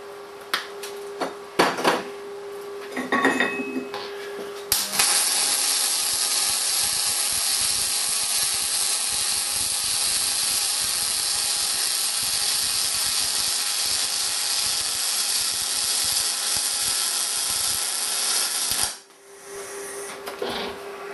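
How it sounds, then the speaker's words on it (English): An R-Tech Pro-MIG250 MIG welder on 20mm steel plate, a few short crackling tack bursts followed by a long, loud, steady buzzing hiss of a continuous weld bead lasting about fourteen seconds before cutting off. "we'll put a couple of tacks on each end and then put a weld bead along there"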